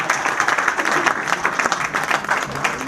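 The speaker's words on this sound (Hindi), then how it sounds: "जोरदार तालियां इस सब के लिए जिन्होंने" An audience at an investment event gives loud, dense applause, many hands clapping continuously with audible individual claps close by.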